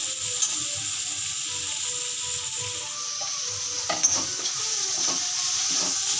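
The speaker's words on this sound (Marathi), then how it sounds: "हा कांदा परतत आलाय" Chopped onions sauté in a pan for a soupy pasta, giving a steady close sizzle and hiss with a few scraping stirs, and no voices.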